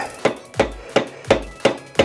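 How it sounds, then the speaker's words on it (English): A mallet drives a spare bolt into a budget motorcycle fork for an electric dirt bike such as a Surron or Talaria, striking six sharp, evenly paced metallic blows close up, each with a short ringing decay. "I'm just going to kind of use my mallet"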